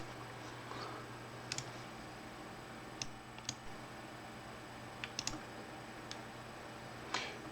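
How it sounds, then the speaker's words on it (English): Sparse, faint computer keyboard typing played back from a recording, isolated key clicks spread irregularly over a low steady hum. "I recorded my microphone so you can hear me typing"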